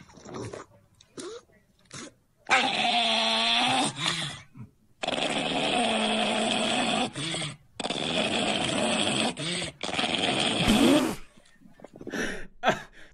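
A small cartoonish dog in a video game growls, whimpers and snuffles in bursts of varied length, separated by short gaps and close-up sounds.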